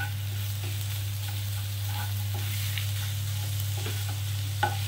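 Duck egg devil stuffing frying and being stirred in a pan on a gas stove: a steady close sizzle with soft scraping strokes of a spoon, alone and unbroken, a low constant hum beneath.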